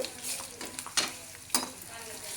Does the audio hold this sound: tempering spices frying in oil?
yes